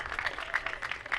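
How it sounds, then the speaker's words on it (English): A short burst of applause from a group at a high school ribbon-cutting ceremony, steady, dense clapping at moderate volume with no voices on top. "why not another round of applause for yourselves?"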